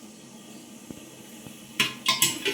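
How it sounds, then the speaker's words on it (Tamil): A lid clatters onto a metal pot of boiling raw mango slices, a few sharp knocks and rattles near the end after a quiet simmering background with faint taps. "ஒரு மூடி போட்டு மூடி வச்சிடலாம்"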